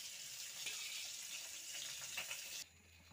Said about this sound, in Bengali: এবারে আমি একটু গরম জল দিয়ে এটা ভিজিয়ে রাখবো কিছুক্ষণের জন্য